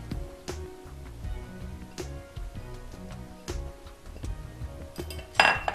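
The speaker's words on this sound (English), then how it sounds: "I'm going to start mixing my corn in here." Corn being mixed with eggs, milk and peppers in a bowl, a spoon knocking and scraping against the bowl in steady strokes, with a brighter clatter near the end.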